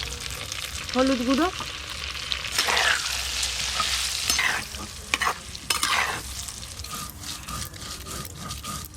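Potatoes dropped into hot oil with turmeric, sizzling and frying loudly with stirring scrapes and rubs against the pan; a voice speaks briefly over the cooking.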